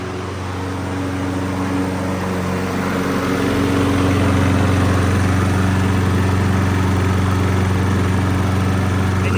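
A 16-year-old 22-inch Toro Recycler Personal Pace lawn mower engine running steadily: a constant, loud droning hum that rises slightly in level partway through, with no talk.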